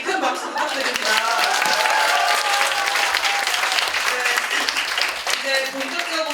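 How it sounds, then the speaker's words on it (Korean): At a Korean school's human-book concert, an audience applauds the principal, a full, loud, sustained burst of many clapping hands with voices and cheering mixed in throughout. "교장 선생님께 큰 박수 부탁드립니다"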